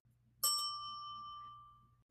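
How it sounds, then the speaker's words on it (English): A single bell strikes sharply and rings on with a clear, sustained tone that slowly fades over about two seconds, heard alone above a low steady hum, standing in for a school bell signalling lunch. "When the bell rang for lunch"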